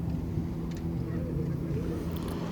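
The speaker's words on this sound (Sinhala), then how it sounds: "ඒ එක්කම තව බෝට්ටුවක් එනවා" A fishing boat pulls into Kalametiya fishing harbour, its engine a low, continuous droning rumble that stays fairly loud and even across the moment.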